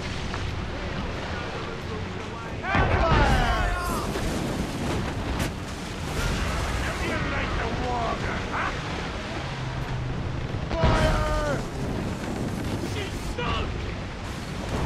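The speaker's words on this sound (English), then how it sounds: "We can fire our mortars, Captain! Fire as many volleys." Ship mortars firing from a sailing warship in the video game Assassin's Creed Rogue, with two loud booming volleys amid constant battle noise, and a voice talking throughout.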